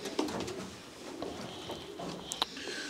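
Pigeons coo softly and steadily nearby inside a loft, with a brief sharper call near the end, over a low murmuring background.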